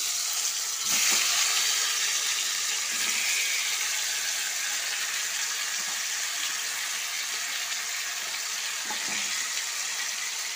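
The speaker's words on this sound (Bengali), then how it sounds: "এবার এর মধ্যে ম্যারিনেট করা আলু ও ডিমটা দিয়ে দিচ্ছি।" Marinated potatoes and eggs go into a hot frying pan with mint leaves, giving a steady loud sizzle and hiss that continues throughout with a few faint knocks.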